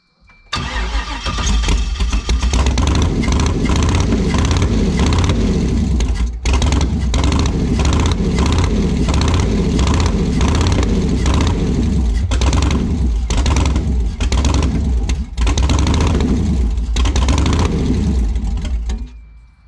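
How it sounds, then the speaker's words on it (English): A V8 engine in an old Woody Wagon roars loudly and steadily at first start, running rough with brief dips and surges, close and continuous for the whole stretch. "Because it's going to be a loud engine."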